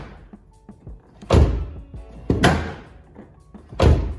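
A damaged Camaro door, its fender pushed back after a semi struck it, creaks and thunks through three heavy ragged bursts of opening and closing, loud and close with small clicks in between.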